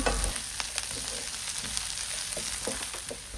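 Steady sizzling of chicken liver masala frying in a pan, with intermittent scraping and clinking as it is stirred; no voices.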